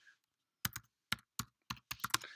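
Sparse, deliberate keystrokes on a computer keyboard, about eight separate clicks spread out with short gaps, close-up and fairly quiet in an otherwise silent room.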